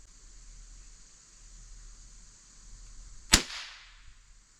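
An Umarex Markpoint marker dry-fired, one sudden loud snap with a short decaying tail after several seconds of faint steady hiss.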